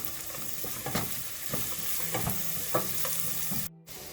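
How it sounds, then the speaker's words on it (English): Onions and whole cashews sautéing in a pan, a steady sizzle with rhythmic scrapes of a spoon stirring, close and continuous until a brief sudden cutout near the end. "And we're going to saute it with the onions."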